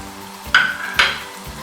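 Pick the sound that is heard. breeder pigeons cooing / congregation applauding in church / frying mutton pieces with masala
frying mutton pieces with masala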